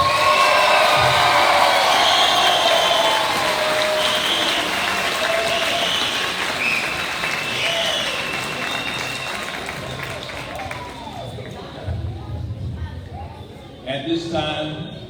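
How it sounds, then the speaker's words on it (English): A large graduation crowd applauds young high school scholars at a class of 2022 ceremony; the clapping is loud and dense at first, then gradually thins and fades, with voices and shuffling emerging near the end. "let's give these young scholars a round of applause."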